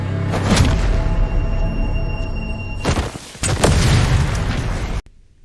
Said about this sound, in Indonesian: mendengar suara bom itu